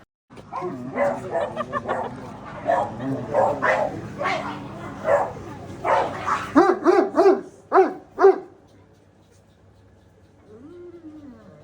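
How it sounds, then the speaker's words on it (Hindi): Dogs of several breeds, including a Dalmatian and a Great Dane, bark at a resort in Lonavala, giving repeated close barks, the sharpest cluster toward the end, while people talk over them. "काफ़ी अलग अलग ब्रीड के डॉग्स थे, डैल्मेशियन था, ग्रेट डेन था"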